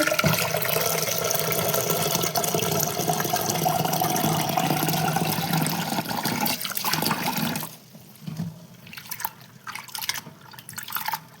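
Lentils for tomato dal are rubbed firmly by hand in a bowl of water, giving a steady, close splashing and swishing that later drops to quieter, intermittent sloshes and drips.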